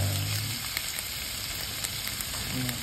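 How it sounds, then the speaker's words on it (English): Green mango pieces hit hot oil with chilies and capsicum, giving a steady, close frying sizzle with faint crackles throughout. "Now we are adding the mango pieces. So mango pieces will also be marginally tempered"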